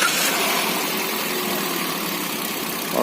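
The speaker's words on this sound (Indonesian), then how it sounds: "Ini suara mesinnya." A 1500 cc Mitsubishi Xpander Ultimate engine idles steadily with a constant, even hum, close and unbroken, with no voices.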